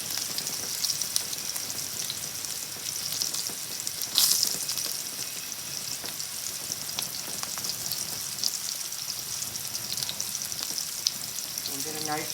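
Salmon frying in a pan over lowered heat, browning on both sides: a steady, moderate crackling sizzle throughout, with one brief louder spatter burst partway and a few faint clinks near the end, no talk.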